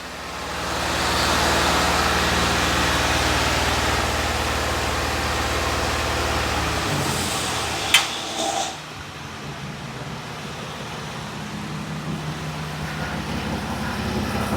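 A 2013 Ram 1500 4x4 with the 3.6 engine idles with a steady broadband hum and low rumble, close and continuous, easing to a quieter settled idle partway through after a brief click.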